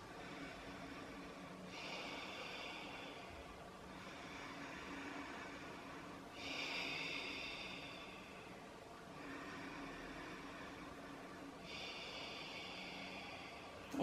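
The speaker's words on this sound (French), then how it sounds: "encore 3 respirations." Slow, deep breaths during a yoga flow, with several long airy inhalations and exhalations at steady intervals, quiet and close with no talking.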